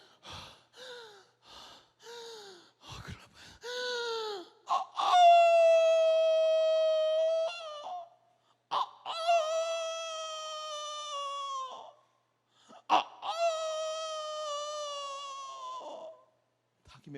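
Three long, loud, close rooster-like crows follow a series of gasping, breathy vocal sounds that were likely made by a person imitating the bird at a church youth gathering.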